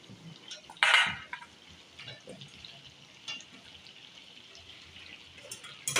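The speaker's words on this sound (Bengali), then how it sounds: "এবার আমি এর মধ্যে আলুগুলো দিয়ে দেবো" Potato pieces go into a pan of mutton kosha with a sudden clatter and a sizzle of oil, followed by softer scraping and stirring noises up close.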